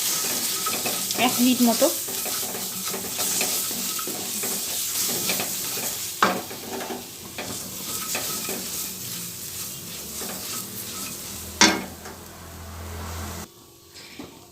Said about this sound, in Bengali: তো এগুলো একটু নাড়বো